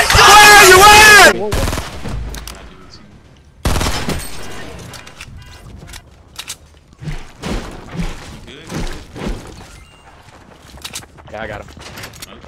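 Shotgun blasts in a video game, a few loud, sharp booms with tails separated by quieter stretches, mixed with scattered thuds and excited talking.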